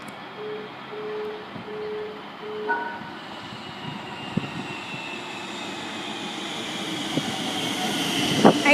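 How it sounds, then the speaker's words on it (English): A Siemens suburban train on a Craigieburn service pulls into Roxburgh Park station in Melbourne. Its rumble and whine grow steadily louder as it approaches, with occasional light clanks and a faint tone early on. "We've got a Craigieburn service arriving."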